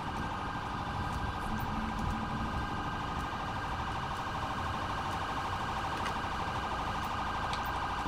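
Continuous electronic siren wails steadily at moderate volume, an unbroken police car siren in GTA 5 with a noisy rumble underneath.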